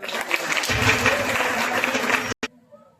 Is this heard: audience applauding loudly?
yes